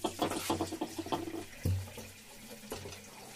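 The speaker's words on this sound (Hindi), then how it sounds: "एक कप हम पानी डालेंगे।" A cup of water is poured into sugar for a gulab jamun syrup, making a splashy, gurgling pour that trails off into light drips and clinks.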